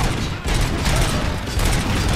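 Rapid gunfire in the video game RoboCop: Rogue City, a dense, loud burst of overlapping shots filling the whole stretch with no pause.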